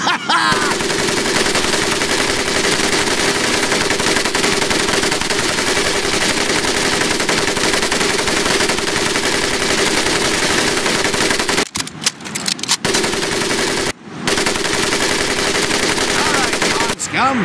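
Mounted machine gun firing in the PC game Medal of Honor Pacific Assault, a loud continuous close burst of rapid shots that runs for long stretches and breaks off briefly twice near the end.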